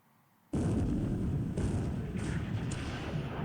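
A penetration hit lands on a damaged destroyer in the naval war game Pacific: AE, a sudden loud blast after a moment of quiet that rolls on as a sustained rumbling roar with a couple of further swells.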